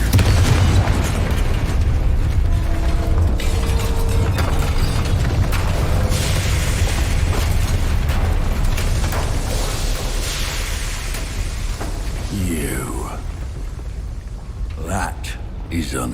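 Confringo blasting spell explosions in Hogwarts Legacy, a loud continuous roar of booms and bursts with rumbling low end, sharp crackling pops near the end, mixed with game audio and a voice.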